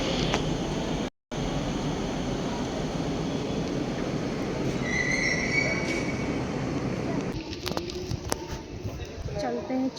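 Rumbling ride aboard a metro train heading toward a market, a steady broadband roar with faint squeals and clatter, briefly cutting out near the start and growing rougher toward the end.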